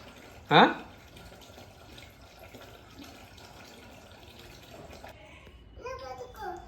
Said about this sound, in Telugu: నువ్వు కడుగుడు తక్కువ నీళ్ళు పోసుడు ఎక్కువ ఉంది కదా